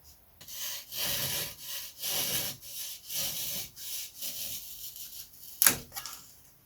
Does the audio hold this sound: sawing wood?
yes